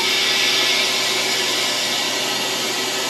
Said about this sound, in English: To get these out, I just got to open my drain valve.